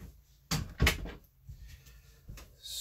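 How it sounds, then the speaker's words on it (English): An indoor household door is opened, giving two close, solid clunks in quick succession, then a quiet room with a faint, brief knock later on. "Let me open the door so Hammy can go in the other room real quick"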